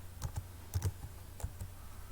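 Quick bursts of key presses on a computer keyboard as a name is entered, about eight soft taps in small irregular clusters over a quiet room background.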